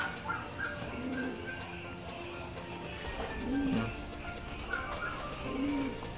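Pigeons cooing in a loft in Pangasinan, three low soft coos spaced a couple of seconds apart over a steady outdoor background hum.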